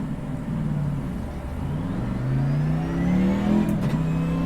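A race car in a racing simulator pulls out onto the track, its engine note climbing and shifting through gears as it accelerates, a steady mid-pitched drone with rising tones heard alone.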